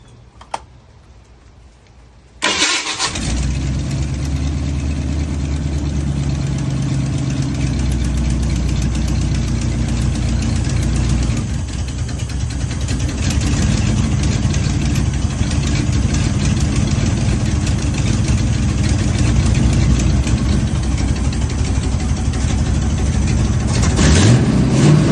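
A Ford 302 HO V8 in a 1991 Fox-body Mustang drag car fires up after a quiet moment and settles into a loud, steady, rumbling idle that holds close and unbroken to the end, rising slightly in level later on.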